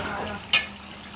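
Chilli chicken meat being stir-fried in a sauce of spices in a pan, with a soft frying hiss and one short, bright scrape or sizzle burst midway, close up and brief, with no voices.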